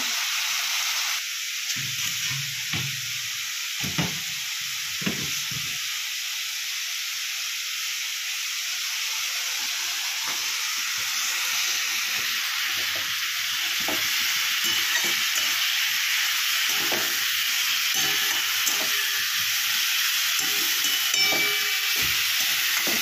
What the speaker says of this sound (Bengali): একটু ফ্রাই করতে হবে।